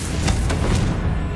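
A Confringo blasting spell cast in Hogwarts Legacy lands as a dense, steady roar of fiery crackle, with a few sharp bursts on top, loud and close with no voices.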